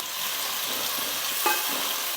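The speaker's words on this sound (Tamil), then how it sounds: "பாருங்கள், கடுகு நல்லா வெடிச்சிடுச்சு" Mustard seeds and chopped onions fry in hot oil with a steady, close sizzle as the mustard seeds pop, and a faint pop or stir sound comes partway through, while cooking fish curry.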